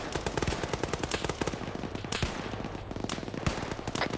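An Osprey aircraft's gun run in a video game military battle, with sustained rapid machine gun fire rattling in dense bursts and a few heavier thumps, loud and continuous throughout.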